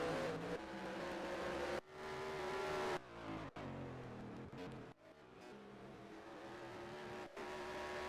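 Race cars lap Lakeside Park during a heat race, their engines droning loudly and continuously with shifting pitch, gear changes and passing cars cutting through a steady roar.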